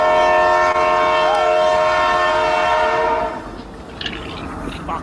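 A played train sound effect with a long, loud multi-tone horn blast over rumbling rail noise, the horn cutting off partway while the train keeps rolling.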